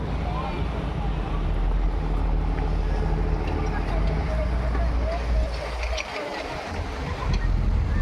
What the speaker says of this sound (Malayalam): അടുത്ത് ഗവൺമെൻറ് ബോട്ട് വരുന്നുണ്ട് കേട്ടോ